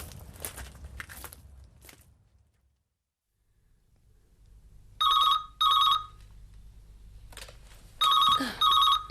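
A telephone rings in two paired bursts of bright double trills with a pause between them, over faint room noise and some crunching movement.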